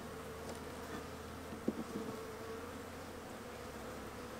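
Honeybees in a wintering hive hum faintly and steadily while the frames are worked, with a few brief clicks and knocks partway through.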